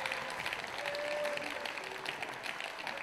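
Crowd at a padel tournament applauds in a steady, dense wash of clapping that holds at an even level throughout the short stretch.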